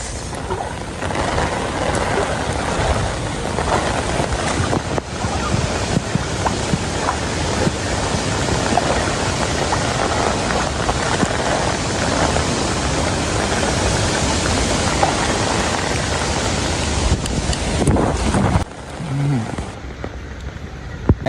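Floodwater from Cyclone Michaung rain rushing at Thaiyur Lake near Chennai, a loud, steady broadband roar that holds for the whole stretch, easing only slightly near the end where a faint voice briefly surfaces.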